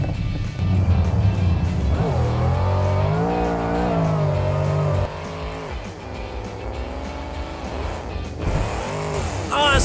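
A monster truck drives fast, its engine roaring loud and steady with pitch rising and falling as it revs, a brief drop partway through, then surging again.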